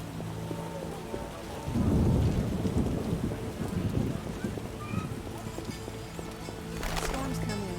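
Thunderstorm in The Witcher game, with a loud rolling thunder rumble over steady rain, then distant thunder fading into continuous rainfall; horse hooves clop faintly in the background.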